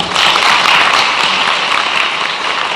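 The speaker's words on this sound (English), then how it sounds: "Please, applause." A crowd applauds at a university graduation ceremony as the rector is invited on stage, a loud, dense burst of clapping that holds steady throughout.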